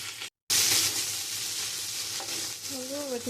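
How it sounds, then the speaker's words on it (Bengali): Vegetables drop into hot oil with bay leaf and dry chili, a loud, steady close sizzle that runs almost unbroken after a brief cutout, with a short voice near the end. "তেজপাতা, শুকনো ঝাল ফোড়ন দিয়ে আমি রেডি করা আমার সবজিগুলো আমি দিয়ে দেবো"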